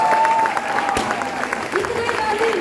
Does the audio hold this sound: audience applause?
yes